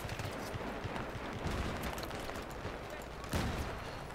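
Gunfire from a P90 in the video game Battlefield 3 on a close-quarters map, rapid bursts of automatic shots running dense and loud through most of the clip, with a sharper burst near the end.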